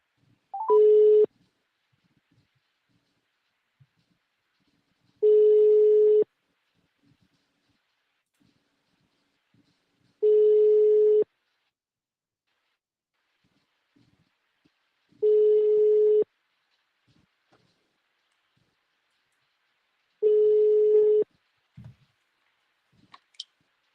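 Outgoing telephone call ringback tones on a callback, five evenly spaced one-second beeps about five seconds apart, with near silence between them.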